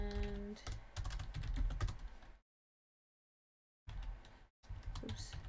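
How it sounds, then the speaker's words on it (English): Rapid clicking on a computer keyboard while typing without looking, in dense bursts broken by a couple of complete dropouts of silence. "I'm typing without looking, so if there's mistakes, sorry."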